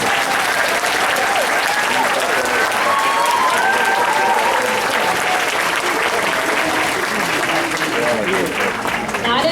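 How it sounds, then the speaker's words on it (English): Audience applause after a band concert piece, a dense steady wash of clapping from a large crowd that holds loud and continuous throughout, with scattered voices and murmurs mixed in. "Okay, you can applaud for that."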